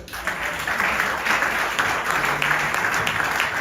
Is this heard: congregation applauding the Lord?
yes